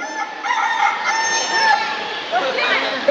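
A voice imitates a rooster crowing: one drawn-out, high, wavering call, close and fairly loud.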